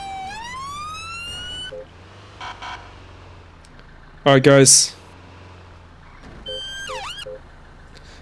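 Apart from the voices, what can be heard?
ambulance siren in video game GTA 5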